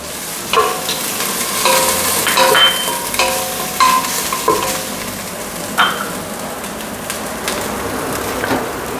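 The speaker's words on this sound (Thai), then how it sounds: "ผัดให้มันมีกลิ่นหอมนะครับ" Pounded coriander root, garlic and pepper are stir-fried in oil, a constant close sizzle broken by scattered scraping strokes and small clinks of the utensil against the pan.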